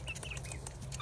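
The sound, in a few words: baby chicks cheeping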